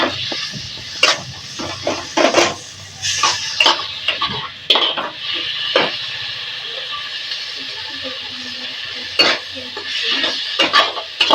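Chopped carrots fry in a pan for homemade Maggi noodles, with repeated metal utensil scrapes and clinks over a low sizzle, close by and irregular in rhythm, and a voice talks faintly at times.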